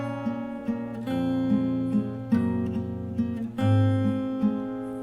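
Fingerstyle acoustic guitar playing a song, plucked melody notes ringing over low open bass strings in a gentle flowing rhythm, close and clear with no talking.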